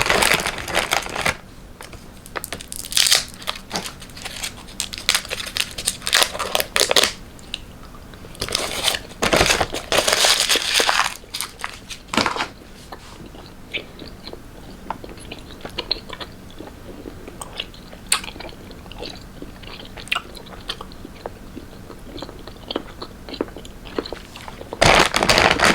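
Pickle-flavored snacks crunched up close between the teeth, in irregular bursts of loud crisp bites and chewing with short quieter pauses.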